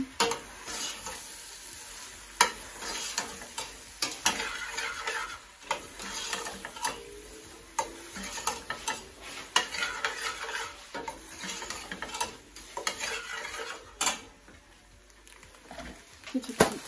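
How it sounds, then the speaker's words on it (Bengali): Pasta is stirred and mixed in a frying pan, a steady sizzle under repeated scraping and clattering strokes of a utensil, close and fairly loud throughout. "ভালো করে মিক্স করে মিক্স করে নিচ্ছি"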